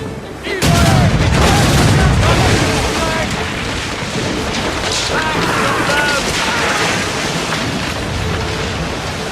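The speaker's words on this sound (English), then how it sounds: "Here, you can use the puckle gun, an early form of machine gun to destroy weak points in quick succession while free aiming." Puckle gun and cannons firing from a ship in the video game Assassin's Creed Rogue, a loud, dense roar of booms and rapid shots over rushing sea-wave noise.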